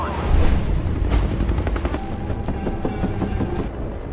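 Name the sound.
helicopter flying into a storm, from the film Kong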